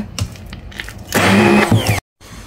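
A hand blender grinding lentils in a home kitchen starts with light knocks and clatter, then runs in one loud whirring burst that cuts off abruptly into silence.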